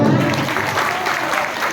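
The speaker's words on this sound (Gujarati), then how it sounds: "એકવાર આખા પરિવારને તાળીથી વધાવો" An audience at a memorial bhajan gathering claps together, a dense burst of applause that is close and loud for under two seconds before it fades slightly.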